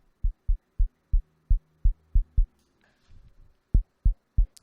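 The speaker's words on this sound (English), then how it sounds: "So we have a really nice kick sound there." A synthesized kick drum made with the AM Synth plugin in Linux, a dry, punchy low thump repeated in a steady even rhythm, with a short pause and a bit of faint noise before three more hits.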